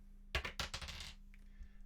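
Dice in the Tiny Epic Galaxies board game are rolled onto a table. They make a quick run of sharp, close clattering clicks that bounce and settle within about a second, over a low steady hum.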